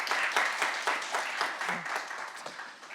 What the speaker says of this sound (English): So a round of applause for Mary, please.